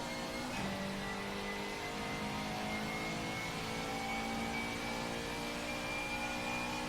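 A race car engine on a track, "club" corner, pulls steadily under throttle, a continuous mid-pitched drone with a rising whine, loud and close for several seconds with no talk.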